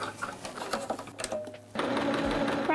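Sewing machine stitching in short bursts, close and fairly quiet, with a steadier run of stitching toward the end.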